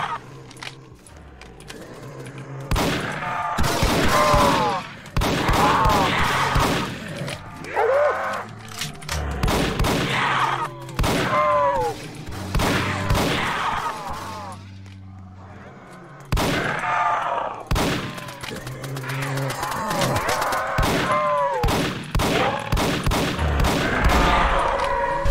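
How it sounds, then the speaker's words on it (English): Rapid video-game gunfire in Roblox, bursts of shots repeating in clusters across the scene, loud and close, with voices talking over and between the bursts. "Shoot my gun, my guy."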